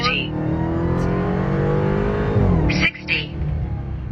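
A Dodge Hellcat with 807 horsepower launching from 0 to 60 mph with some wheelspin, its engine roaring loud and close and rising in pitch, then cutting briefly at a gear change before pulling hard again, with voices mixed in.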